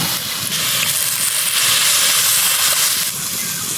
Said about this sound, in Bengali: আমার মশলা কষানো হয়ে গেছে, এখন জল দিয়ে দেবো।